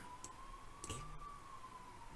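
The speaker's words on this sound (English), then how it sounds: "Another ambulance." Ambulance siren sounding faintly in the distance as a thin, steady wail under low room hum, with a few soft clicks nearby and no talk.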